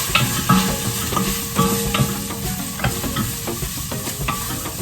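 Onions, peppers and seasoning are stirred in a pot for veggie spaghetti, with close, loud sizzling under repeated scraping and clacking strokes of a spoon in an irregular rhythm, and no speech.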